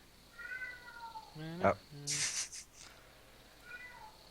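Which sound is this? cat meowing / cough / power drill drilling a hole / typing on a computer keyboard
cat meowing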